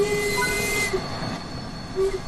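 Steam train in the Train Sim World 4 video game moving and braking: a steady rolling rumble with tonal wheel squeals and brake whines, no talk.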